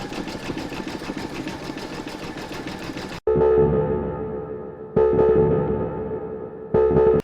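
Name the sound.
sewing machine stitching appliqué with pink thread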